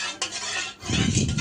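A spoon stirs milk into tea in a cup, with a sharp metallic clink followed by a scraping, rubbing swirl, close and clear with no talk.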